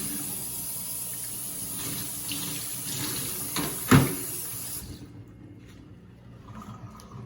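Water is poured over the hands for ritual hand washing at a Passover seder, a steady splashing stream that runs for about five seconds with a brief knock midway, then stops, leaving a quiet room.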